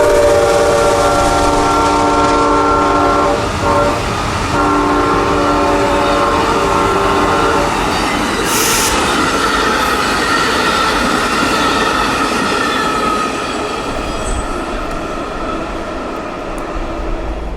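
A freight train and Amtrak's Silver Meteor pass on a main line, a loud continuous roar and rumble of rolling cars with tonal horn-like bands early on, slowly easing toward the end.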